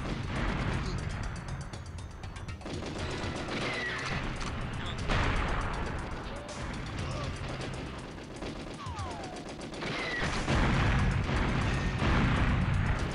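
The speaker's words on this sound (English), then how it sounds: "Oh, big explosion right there." Gunfire and explosions from the N64 game GoldenEye fill the clip, with dense bursts of shots, a heavier blast near the end, and a voice talking over the action.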